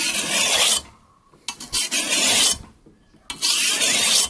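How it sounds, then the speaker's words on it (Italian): A hand file rasps across the blade of a garden hoe, three long strokes separated by short pauses, with a few brief scrapes in between, loud and close. "e poi nel frattempo affilo un pochettino"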